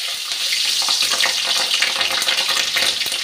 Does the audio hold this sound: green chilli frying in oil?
yes